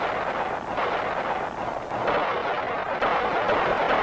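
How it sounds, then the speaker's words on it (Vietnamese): Heavy artillery fire during the Khe Sanh battle of the Vietnam War, a dense continuous roar of distant bombardment with rumbling booms that fill the whole stretch without pause. "23 giờ 30 phút, pháo binh bắn chế áp dữ dội."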